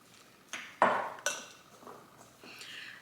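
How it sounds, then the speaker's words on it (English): Oats stirred with a spoon in a bowl, giving a few soft clinks and scrapes of utensil against the dish, close and quiet with no talking. "And just keep stirring."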